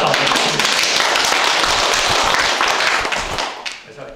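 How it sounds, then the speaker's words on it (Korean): An audience at a poetry recital festival marking a literary hall's tenth anniversary claps for a professor: thick, steady applause from a full room that tapers off near the end. "여러분 강익은 교수님 박수 한번 주십시오."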